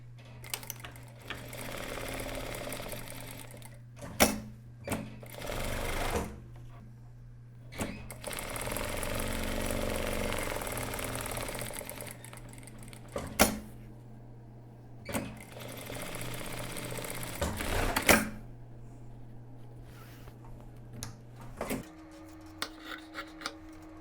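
A sewing machine closes the side and upper seams of a loose, made-to-measure shirt with interfaced fabric, running in several bursts of steady whirring separated by short pauses and small clicks, close and alone.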